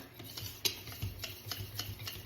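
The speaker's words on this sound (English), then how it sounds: "So I'm gonna add that to the flour and whisk that together." Dry ingredients being whisked together in a bowl, cinnamon going into flour for zucchini bread: a quick series of light, rhythmic scraping taps of the whisk against the bowl, close and fairly soft, with no talking.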